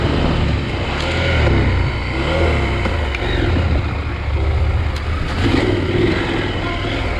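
A KTM 890 motorcycle engine pulls in first gear along a misty rainforest trail, a loud, steady drone with small surges in throttle over wind rumble throughout.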